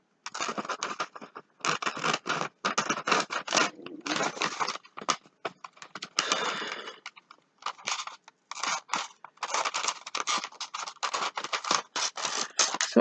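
Scissors snip steadily through paper as decorations are cut from old magazines, with bursts of quick crisp cuts and rustling broken by short pauses, all close and clear.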